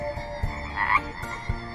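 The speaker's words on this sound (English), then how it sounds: "Frog make a croak sound." A frog croaks in short, loud, repeated bursts, several rhythmic croaks close up and alone.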